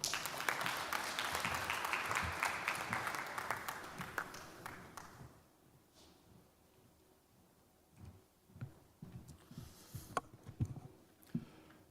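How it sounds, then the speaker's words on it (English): Audience applause at the Merck Foundation First Ladies Initiative Summit, loud and steady for about five seconds, then fading out. Scattered faint claps and room noise follow. "Word of applause for him."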